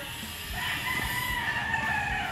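A Sweater Boston gamecock crows in a long, drawn-out call over steady farmyard background noise, sounding fairly close, with no talking.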